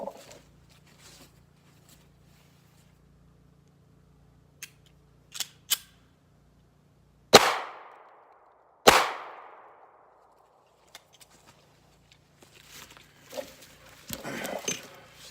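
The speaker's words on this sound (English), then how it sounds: "I'm going to shoot a 9mm now" Two loud 9mm handgun shots fired outdoors, each a sharp crack with a trailing echo, spaced about a second and a half apart, with lighter clicks and handling noises before and after.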